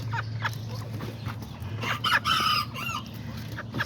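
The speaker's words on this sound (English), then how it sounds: "This is one of the newer roosters that I had gotten." A young Serama or Kikiriki rooster gives a crow against a steady low background hum, the call rising and wavering in the middle of the clip, with soft clucks around it.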